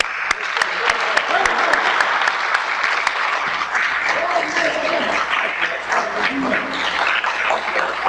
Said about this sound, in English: Please accept our brother and your brother, Brother Prime Minister Khalid Alif Muhammad, for a warm round of applause